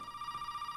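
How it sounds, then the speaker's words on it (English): A phone rings in the horror video game Resident Evil 7: Biohazard, a short, steady electronic trill pulsing rapidly and evenly at moderate volume with nothing else heard. "Uh-oh, another phone call from Zoe."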